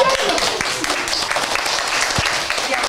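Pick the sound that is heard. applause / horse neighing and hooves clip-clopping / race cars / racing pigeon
applause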